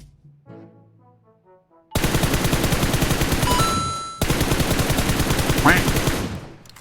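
Rapid automatic gunfire in the mobile battle royale game PUBG Mobile, loud sustained bursts of shots after a short musical chime, with a brief break before a second long volley.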